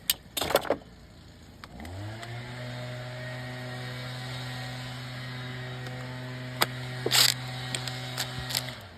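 An impact wrench runs 12 mm bolts into the upper timing cover of a 2020 Hyundai Veloster N. Its motor spins up to a steady whine for about seven seconds, with sharp metallic clanks of handling just before and after.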